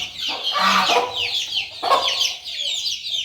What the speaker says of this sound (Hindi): ये मुर्गी ना कुछ चूजे लेकर घूम रही है।